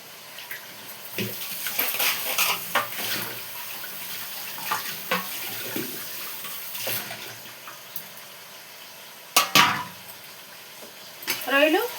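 Large raw prawns drop into a pan of hot oil and are stirred. A soft sizzle runs under intermittent clinks and scrapes of a spoon against the pan, with a few sharper knocks near the end.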